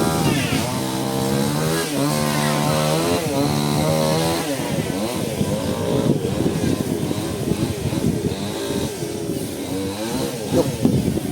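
A loud power saw runs continuously nearby, its motor revving up and down through the cut, harsh and buzzing throughout.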